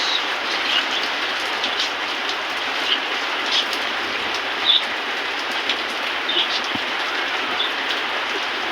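Steady rain falls at night, a dense continuous hiss with scattered louder drips and taps, heard alone without voices.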